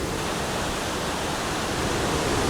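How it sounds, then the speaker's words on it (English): Dudhsagar Falls in India, a 600-meter waterfall swollen by monsoon rain, heard as a constant, loud, broadband roar of rushing water with no pauses. "There it is, the Dudhsagar Falls, 600 meters from top to bottom"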